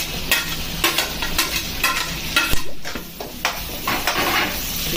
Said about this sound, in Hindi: अभी इसमें मैं टमाटर को जो बारीक काट के लिया था उसको इसमें ऐड कर देता हूँ।